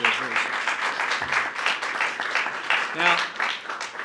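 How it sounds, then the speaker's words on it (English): Audience applause for schoolchildren at a school choice event, a steady wash of clapping lasting the whole stretch, with voices mixed in and a brief talking voice over it. "Give these kids another round of applause, will you?"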